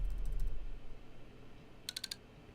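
Option key on a Mac keyboard pressed five times in quick succession, five crisp, evenly spaced clicks close up against a quiet room.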